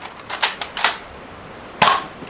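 A children's toy gun fires soft bullets at a target, giving a few sharp, snappy pops at uneven intervals. Three shots stand out as louder than the rest, heard close and with no talking.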